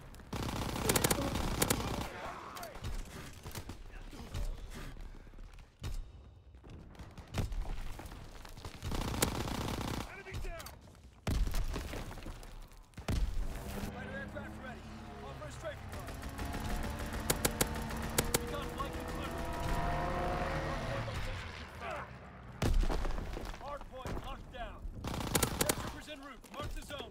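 Gunfire in the online shooter Call of Duty: World War 2, with dense, sustained machine-gun bursts and single shots rattling almost continuously, broken by brief pauses, with game voices talking over parts of it.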